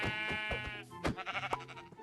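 A goat bleats in the Minecraft video game, a short wavering cry standing out clearly against a background of game music with distinct notes.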